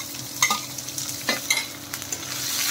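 Chopped onion and green chili hitting hot frying oil with garlic and ginger for an urad dal tadka, a steady sizzle broken by a few sharp spatula stirs and scrapes, close and moderately loud, no talking.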